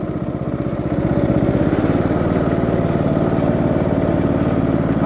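Race mower engine running at full throttle, a loud, steady, buzzing drone that rises slightly in the first second, then holds constant and close.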